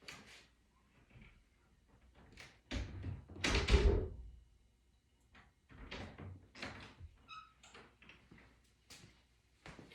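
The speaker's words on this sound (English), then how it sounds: "I'm going to walk into this room and shut the door behind me." An indoor door is shut during a dog training session, giving one solid, close thud preceded by soft footsteps and handling noises, followed by scattered quieter knocks and shuffles in a quiet room.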